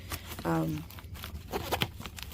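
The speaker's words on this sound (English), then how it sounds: "this is the waterproof or water resistant pouch that they talk about. That this zips up here." Zipper on the water-resistant pouch of a LUGGEX underseat carry-on wheeled suitcase, pulled in one short raspy run near the start, with faint handling rustle afterward.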